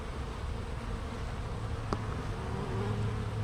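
Bees buzz steadily around a weakened hive with few defenders and beetles taking hold, a close, continuous droning hum with no voices and one brief tick partway through.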